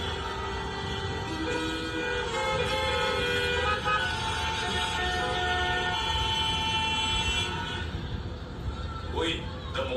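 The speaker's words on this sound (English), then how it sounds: "Here, people honk even when the signal is red." Horns honk repeatedly and overlap in busy Mumbai street traffic, loud and sustained over a dense roar of engines, with a sharper blast near the end.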